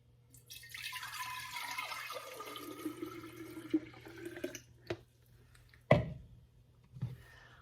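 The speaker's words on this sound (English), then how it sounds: "Just gonna dump out the last few drips." The last few drips of homemade hard apple cider are dumped from a container, with a faint trickle and splash that fades into a couple of distinct drips near the end.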